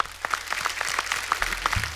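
Studio audience applauding for a music director at a Bollywood film-music talk show, steady dense clapping throughout at moderate volume.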